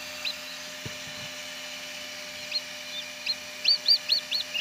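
High, thin peeping from a newly hatched Zagorsk Salmon chick, repeating several times toward the end over a faint steady hum, with a soft knock early on.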